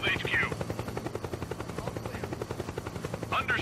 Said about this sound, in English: Maybe I shouldn't pull out the helicopter